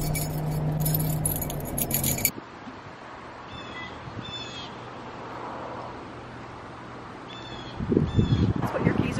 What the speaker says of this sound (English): your keys are in that little envelope? Yeah, and they're on a paperclip